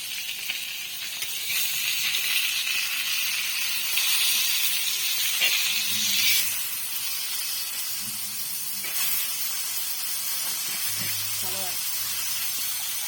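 Fish frying in oil in a home pan for a quick Marathi fish recipe, giving a steady hiss and sizzle throughout, with a few faint low voices and kitchen clatter underneath.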